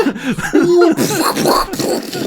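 Several rough, throaty coughs mixed with harsh vocal noises, close and loud, with a brief voiced tone in the middle.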